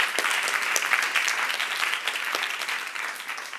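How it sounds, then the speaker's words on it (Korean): A church youth group audience claps together in a lively burst of applause, dense and close for a few seconds before tapering slightly, with no speech over it. "박수 하나 주세요."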